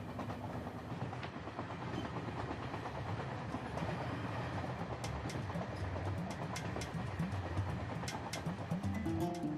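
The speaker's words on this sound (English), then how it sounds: "I'm on a train heading south to the land of Nubia" A train running on rails, with a continuous rolling rumble laced with rhythmic clicking and clatter from the wheels, heard steadily from on board with no voices.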